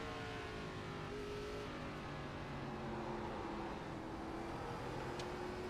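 Race cars in the Total Nonstop Racing video game at Watkins Glen International: a steady, faint engine drone with sustained whining tones, holding a constant rolling hum at a distance throughout, no voices.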